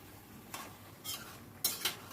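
A utensil stirs ash gourd curry with Gobindobhog rice in a pan, giving four soft scraping strokes spaced through a quiet stretch, the last two a little louder, with no voices.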